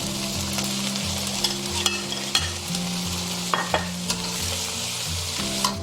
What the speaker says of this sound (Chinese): 我们把包菜丝跟胡萝卜丝放上去炒一下